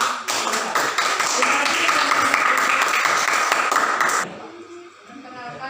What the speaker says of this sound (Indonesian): Kita berikan penghargaan, kita tepuk tangan untuk kelompoknya.